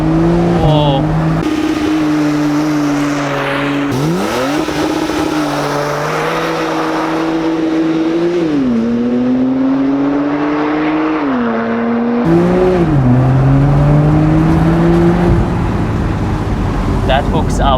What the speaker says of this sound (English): let's see what we can do with a 0 to 100 in the base Carrera Cabrio